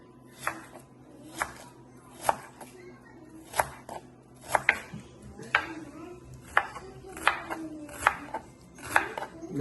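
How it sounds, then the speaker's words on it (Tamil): Large onions chopped into small pieces on a board, with sharp knife strikes landing in a fairly even rhythm, around a dozen close, crisp knocks over a quiet kitchen background with faint bits of talk. "பம்பா வெங்காயத்தை சின்ன சின்னதாக வெட்டணும்"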